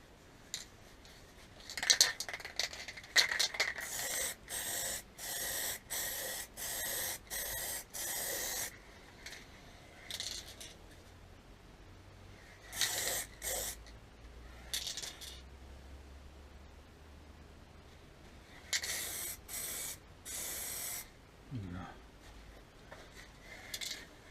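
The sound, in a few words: spray gun spraying clear coat on motorcycle fairing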